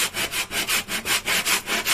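Hand sanding on a boat's wall during a renovation, with about a dozen rhythmic back-and-forth abrasive strokes, close and steady.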